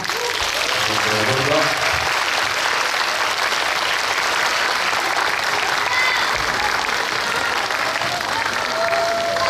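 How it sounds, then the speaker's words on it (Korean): Warm, sustained applause from a cinema audience at a CGV Yeongdeungpo Starium live talk as the Namhansanseong film cast leaves the stage; dense, steady clapping fills the whole stretch, with a brief spoken line near the start. "끝까지 뜨거운 박수 부탁드립니다"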